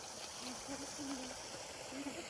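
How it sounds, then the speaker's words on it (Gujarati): Water flowing steadily along a stream at the Shri Sahastradhara Khodiyar temple, a constant close rushing hiss with a few short bits of voice over it. "જો અહીં પાણી જાય જો કેવું સરસ મજાનું પાણી જાય છે"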